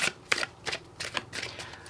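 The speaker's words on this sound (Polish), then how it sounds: "Ja już wcześniej tasowałam te karty, teraz tylko tak, żeby wzbudzić energię." Tarot cards being shuffled, a quick series of papery riffling bursts close to the microphone, repeating in an uneven rhythm with no talking.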